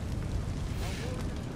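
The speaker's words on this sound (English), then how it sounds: "I spared one of them just to set fire to the village." A village set ablaze in Thrones of Britannia, a steady roaring rumble of fire and wind-like noise that fills the short moment loudly, with faint talk mixed underneath.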